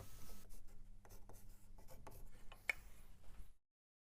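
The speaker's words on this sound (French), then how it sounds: "Tracez cette ligne avec votre équerre" A pencil drawn along a square to mark a cutting line on wood, a steady close scratching stroke with small rubbing pauses, ending abruptly in silence.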